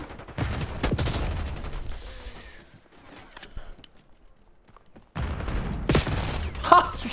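Gunfire in the shooter game Call of Duty: Black Ops 6 comes as two loud, close bursts of rapid shots, separated by a stretch of near quiet with faint game sounds.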